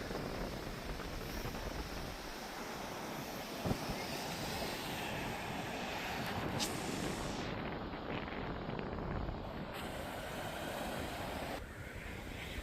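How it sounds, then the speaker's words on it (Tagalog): Steady, roaring wind buffets the microphone without a break at a beach with seagulls in Akumal, Mexico, with a rushing, surf-like wash behind it. "Ang lakas ng hangin, no?"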